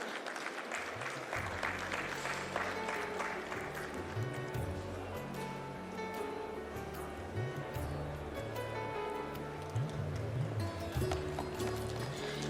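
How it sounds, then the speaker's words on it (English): Conference audience at a steel industry event applauding during a memento presentation, a moderate, continuous patter of clapping heard from some distance, with a low hum and faint murmuring underneath. "I think we forgot to clap as well."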